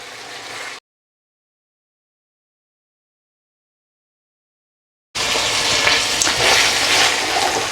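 Keema mince frying uncovered in a pan, a brief burst of sizzle, then a few seconds of silence before loud, dense hissing and crackling returns.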